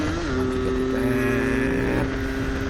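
A Yamaha RX King two-stroke motorcycle with a seizing piston is held on the throttle in traffic beside a Mitsubishi Colt truck; its engine drones loudly and steadily, its pitch stepping up partway through under wind noise.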